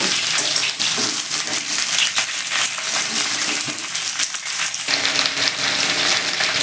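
Potato, pumpkin and pointed gourd frying in a pan for a vegetarian chokka, a steady, dense hiss and crackle running close and loud throughout, with a brief shift in tone near the end.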